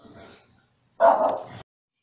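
A pet dog barks once in a short indoor burst, after a moment of quiet and a faint murmur, announcing someone arriving home.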